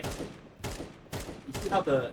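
Bursts of rapid automatic gunfire from Counter-Strike 2 on the map Agency come in four short volleys with brief gaps, loud and close.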